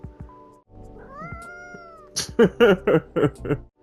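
A cat meows five times in quick succession, loud and close, a short run of insistent cries following a quieter stretch of faint background tones.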